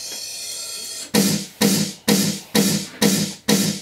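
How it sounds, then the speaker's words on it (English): A snare-like synth hit processed with a sound codizer for extra aggression, struck six times at an even, quick pace, each a sharp bright burst that decays quickly, loud and alone after a second of quiet hum. "I have this one, just like a snare."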